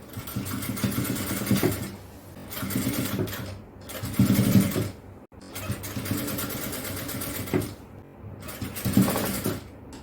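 A sewing machine stitching puff shorts runs in steady whirring bursts of a few seconds each, with brief pauses between runs. The sound is close and even, and nobody talks.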